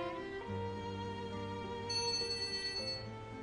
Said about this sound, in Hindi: एमिर का फोन है